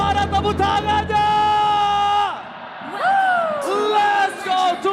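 A large crowd yells, whoops and cheers in a velodrome arena at an esports grand final, loud sustained shouting that swells in waves with drawn-out voices rising and falling.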